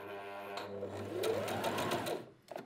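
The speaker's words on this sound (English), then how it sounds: "Now start sewing by pressing the foot controller" Brother GS2700 sewing machine stitching fabric under foot-controller power, a close whirring motor hum with fast rhythmic needle clatter that rises in pitch, then stops with a couple of clicks at the end.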